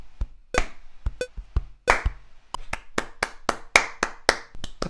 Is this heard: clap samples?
yes